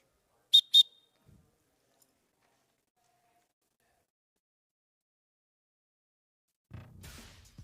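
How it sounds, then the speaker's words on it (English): A referee's final whistle at the end of a match: two short, sharp whistle blasts in quick succession, fairly loud, followed by silence and then faint rustling. "And that's the final whistle."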